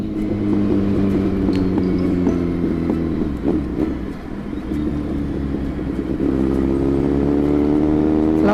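A motorcycle ridden slowly along the road, its steady engine drone loud and close throughout, with revs climbing toward the end.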